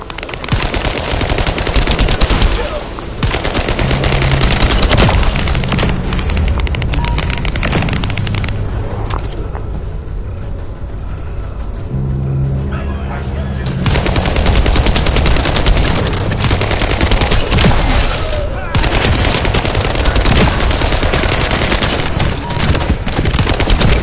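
Automated turrets in The First Descendant fire sustained, dense bursts of loud gunfire with booming impacts, briefly easing in the middle before the heavy barrage resumes.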